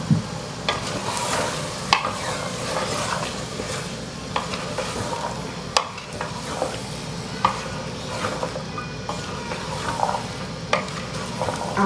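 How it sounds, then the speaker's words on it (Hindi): Tomato and chickpea masala frying on high heat, a dense continuous sizzle with frequent stirring scrapes and occasional sharp spoon knocks against the pot, close up with no talking. "तेज़ आंच में इसको थोड़ा सा भून देंगे"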